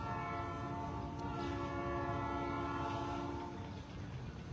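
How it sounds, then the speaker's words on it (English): A train horn sounds in long steady blasts at the B&O Railroad Museum, holding its chord for several seconds before tapering, fairly distant and mixed with low rumbling rail noise, with no talk over it. "I hear a train horn"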